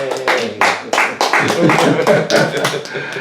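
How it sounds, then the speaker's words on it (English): Audience members at a church gathering in Buffalo, New York clap in a loud, uneven burst of sharp hand claps, several overlapping strikes with room echo across a few seconds, with some voices underneath. "Y'all can clap there."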